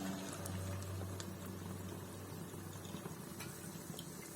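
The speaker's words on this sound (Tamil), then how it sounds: "எண்ணெய் சூடாயிடுச்சான்னு கொஞ்சமா போட்டு பார்க்கலாம்." Hot oil bubbling and sizzling steadily after a small bit of murungai keerai and wheat flour bonda batter is dropped in to test the heat, a soft continuous fizz with a low hum beneath.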